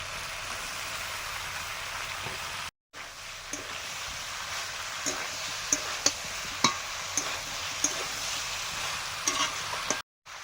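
Soybean chunks frying with cooked-down vegetables in oil in a pan, a continuous hiss and crackle with occasional sharp spatula clinks as they are stirred, brief dropouts of silence, no talking.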